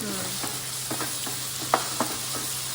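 Food frying in a pan, with a continuous close sizzle broken by light stirring clinks and scrapes at irregular intervals, and no voices.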